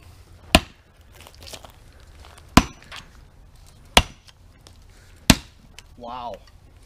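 Four sharp, loud, evenly spaced blows drive a wedge and a Gransfors Bruk cruiser axe into wood, with quiet gaps between them and a short voice at the end.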